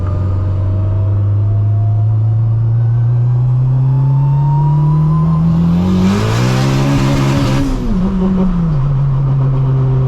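A built turbocharged Honda Civic Si of about 600 horsepower accelerates hard in second gear, its engine note climbing steadily in a loud, close drone before a sharp surge and a quick drop as it shifts or lifts.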